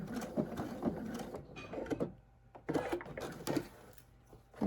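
A sewing machine back stitches a seam on a Christmas cozy, running in quick rapid bursts of mechanical chatter with brief pauses between, close and moderately quiet.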